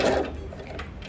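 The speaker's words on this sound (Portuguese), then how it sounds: "Aqui nós vamos costurar o viés em toda a extensão da nossa cestinha" Sewing machine stitching bias binding along the edge of a fabric bread basket, a steady close mechanical whir running continuously without pause.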